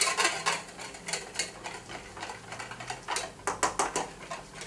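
A whisk works cornstarch into cold milk for a chocolate flan, a quick irregular tapping and scraping against the bowl, close and steady throughout with no voices.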